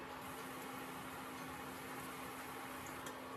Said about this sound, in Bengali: ঠিক এভাবে আমি আর কতগুলো বড়া ভেজে নেব